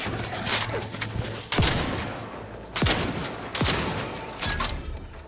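Gunfire from the video game Outer Worlds 2, several sharp individual shots spaced a second or so apart over a steady game ambience, fairly loud with no talking.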